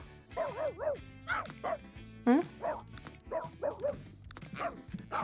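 Dogs in the life-simulation game The Sims 3 give a rapid run of yelping barks and whiny yips, about a dozen in quick succession at moderate volume.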